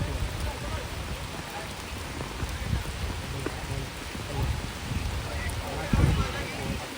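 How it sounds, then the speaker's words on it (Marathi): Steady rain with gusty wind noise roaring across the whole stretch at an outdoor rubber-ball cricket tournament match in Kankavli, fairly loud and continuous, with faint voices buried underneath. "वारा आणि पाऊस"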